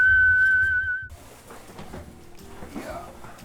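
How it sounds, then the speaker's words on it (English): A person whistles a single clear, sustained note in a bakery, loud and close, then stops abruptly as kitchen clatter and bustle take over. "We whistle a lot."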